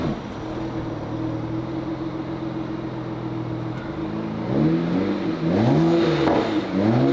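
A BMW 335i engine in reverse gear revs repeatedly while the car stays put, a steady idle drone giving way to several rising and falling revs that grow louder toward the end, close by with no talk.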